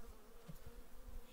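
Carniolan honeybees hum softly at the hive in a low, continuous buzz, with a few closer wingbeats passing by.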